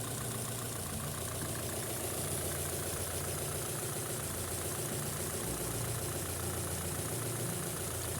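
A Rover K series VVC car engine with over 200,000 kilometres idles steadily while warming up, a continuous close rumble with a faint ticking texture and no voices.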